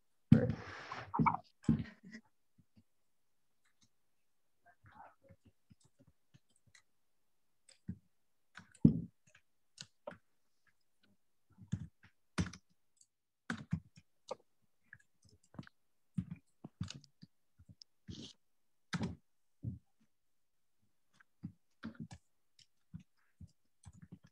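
A computer keyboard clicks as a chat message is typed, with quiet, scattered keystrokes in short bursts and pauses and no talking.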